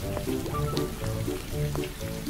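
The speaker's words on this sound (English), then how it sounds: "it begins to rain" Cartoon rain effect: a steady patter of falling rain under a light musical backing, continuous and fairly loud throughout.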